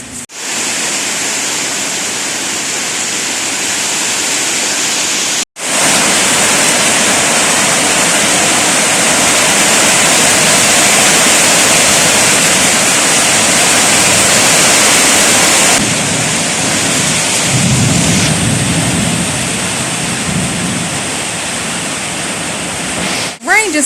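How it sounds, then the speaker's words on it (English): Heavy rain pours steadily during the rainy season in Cambodia, a dense, loud, continuous hiss with a brief break near the start, and a voice speaks faintly in places; no clear thunder stands out. "Rain just brings me so much peace and joy and happiness."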